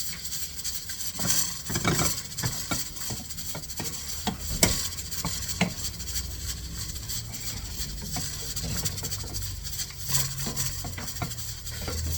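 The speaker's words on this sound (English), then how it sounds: "We're going to start stirring this butter in." A utensil stirs butter into a bowl of mashed potatoes, soft scraping and rubbing strokes in an irregular rhythm, faint and close, with occasional light knocks against the bowl.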